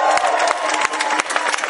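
Protesters outside a Fort Worth courthouse at a gay rights rally clap and cheer for Rick Vanderslice, a loud close burst of mixed clapping and shouting voices throughout.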